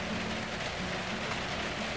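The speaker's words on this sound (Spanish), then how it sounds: "Está lloviendo de nuevo." Rain falls steadily on the roof of a greenhouse, a continuous, fairly loud hiss heard from inside with no voices.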